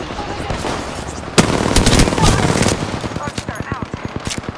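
Gunfire in the Apex Legends video game: a loud burst lands suddenly near the start, then rapid automatic shots follow in an even, steady rhythm, close and forceful.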